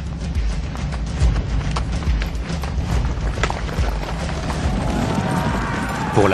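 Cavalry horses gallop in a documentary battle scene set 600 years BC, a dense, continuous pounding of hooves with thuds and rumbles over dramatic music that swells toward the end.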